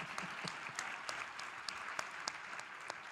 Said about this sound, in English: Clap it up for mama.